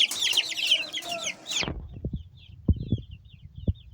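A few chickens cluck softly in a backyard coop in a handful of brief, scattered calls, heard after a short burst of other bird calls at the start.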